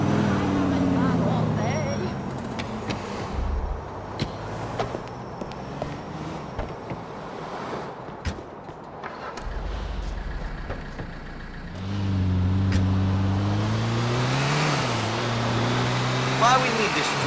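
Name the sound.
truck driving in video game Grand Theft Auto IV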